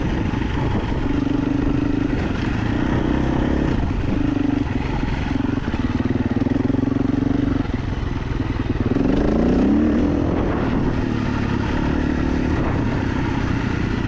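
A motorcycle rides over a rutted green lane with a continuous loud engine drone and rough rumble, its pitch shifting as it works through the ruts, with no voices.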